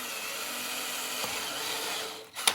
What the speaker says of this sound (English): I should be able to maybe just drill it on the floor here.